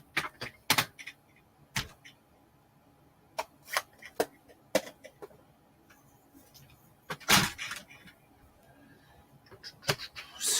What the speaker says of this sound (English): Then I cut it out with my cutter.